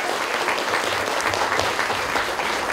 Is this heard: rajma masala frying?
no